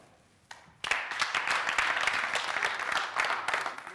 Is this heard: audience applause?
yes